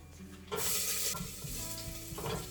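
Whole spices such as cinnamon and cloves with garlic drop into hot ghee and burst into a loud sizzle, then keep crackling and bubbling with stirring scrapes, surging again near the end.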